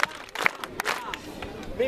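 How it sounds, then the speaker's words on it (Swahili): An audience at a youth camp reception for a guest of honour claps in a few sharp, rhythmic bursts amid crowd murmur, fairly close. "Tupige makofi matatu."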